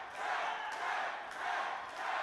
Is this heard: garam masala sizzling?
no